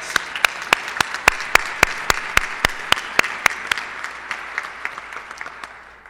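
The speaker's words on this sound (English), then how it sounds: "Let us give Becky Beaulieu another round of applause" Meeting audience applauding speaker Becky Beaulieu: a full round of clapping with several sharp, close claps standing out in a steady rhythm, thinning and fading out toward the end.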